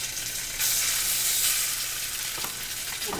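Hot oil sizzling across the bottom of a frying pan before salmon goes in, a loud, dense, continuous hiss that swells briefly and holds steady, close up with no voices.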